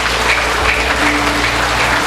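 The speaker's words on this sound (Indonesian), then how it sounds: "Tepuk tangan untuk Mas Teguh." Audience applause in a training seminar room, a steady wash of clapping with a low hum beneath and no talk.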